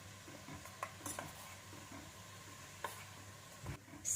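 Curry leaves simmering in oil as their moisture foams off, a soft low sizzle with occasional utensil clinks and scrapes, close but quiet, no talking.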